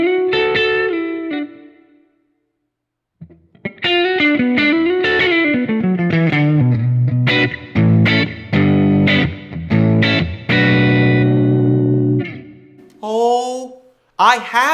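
An electric guitar plays through a Kemper Kone loaded with an Oxford 12L6 speaker imprint in a Kemper Kab, giving loud, driven chords and single notes with a short pause early on and a brief voice near the end.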